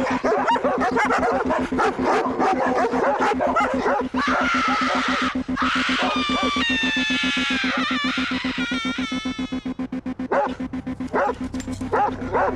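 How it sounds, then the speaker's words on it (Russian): Several dogs bark and yip in rapid, overlapping bursts close by, with a few higher whining yelps mixed in, continuing loudly throughout before tapering near the end. "Опять эти собаки."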